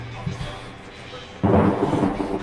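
Thunder rumbles in the horror video game Outlast, a sudden loud, broadband crash breaking in midway after a quieter dark ambience and rolling on to the end.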